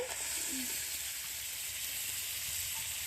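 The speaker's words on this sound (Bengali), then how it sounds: "ওরা কড়াইতে আলু দিয়ে দিয়েছে" Potatoes fry in a wok over a wood-fired stove at an outdoor picnic, giving a steady, dense sizzle and hiss that runs unbroken for a few seconds with no talk.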